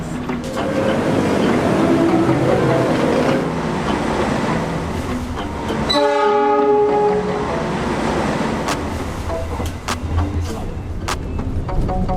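A train in Indonesia, on an executive-class run from Jakarta to Malang, sounds its horn partway through as a steady tonal blast over continuous loud rail rumble and rolling noise.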